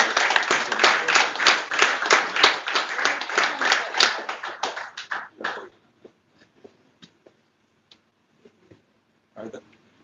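An audience at a guest speaker evening applauds a professor with several seconds of loud, close clapping that breaks off abruptly, leaving scattered faint taps and a short final burst of clapping.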